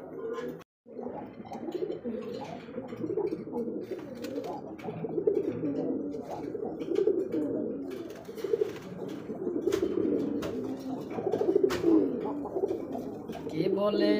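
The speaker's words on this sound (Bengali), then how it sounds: "দেখছেন কবুতরের ডাক দেখেন, ডাক দেখলেই মন শান্তি দর্শক।" Pigeons in a Bangladeshi breeding loft, a male and female pair among them, cooing in low repeated warbling phrases that run continuously at close range, with a voice talking at times over the birds.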